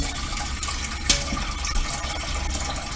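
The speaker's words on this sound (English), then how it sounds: "let's get the water in there" Water pours steadily into a pot for cooking rotini pasta, a continuous close splashing fill with a few louder splashes and no talk.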